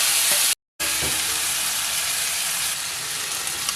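Roasted pork is tipped into a hot pan with onions, setting off a loud, steady frying sizzle with a brief drop to silence near the start, then continuous hissing.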